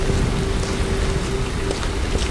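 Steady rain falling at night near a parked bus, a dense continuous hiss of drops pattering on surfaces at even loudness with a faint low hum beneath, and no voices.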